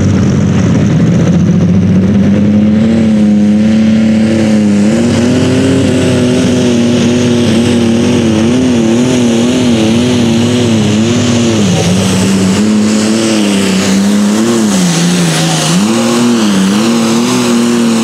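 A pulling tractor engine at a tractor pull in Hopkinsville, Kentucky, in the light limited super stock class, roars loud and close for the whole stretch, its pitch rising and dipping as the throttle works, with no talk over it.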